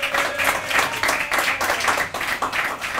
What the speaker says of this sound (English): Let's hear applause.